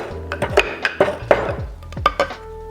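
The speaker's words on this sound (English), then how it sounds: "And then we're going to muddle the cube." A bitters-soaked sugar cube, wetted with Peychaud's bitters, is muddled in a glass, giving a series of sharp, close clinks and knocks at an uneven rhythm with a few quiet thuds between them and no talking.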